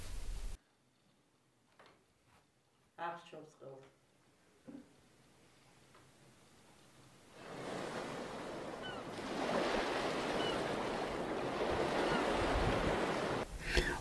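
Sea waves rolling in documentary footage, a broad steady wash of surf that swells up after a few faint ticks and taps and then holds loud and continuous.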